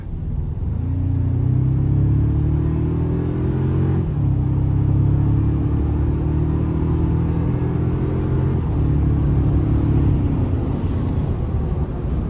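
2026 Toyota Tacoma Hybrid TRD Off-Road accelerating hard, heard from inside the cab: a loud engine drone climbs steadily in pitch through two upshifts, each with a sharp drop before it rises again.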